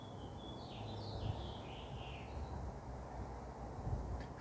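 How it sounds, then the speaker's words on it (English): Birds sing faintly outdoors, a few thin high chirping phrases in quick succession over a low steady background hum, distant and soft, with no one talking. "Who's listening to these birds right now?"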